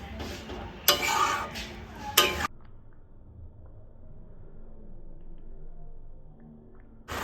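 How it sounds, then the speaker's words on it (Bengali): A spoon scrapes around a pan as fried spice mix is stirred into thick tomato chutney. Two loud, close bursts of stirring come early, then a long quiet stretch of faint rumble, then a brief scrape at the very end. "মশলাটাকে আমি কিছুক্ষণ নাড়িয়ে চাড়িয়ে নেব"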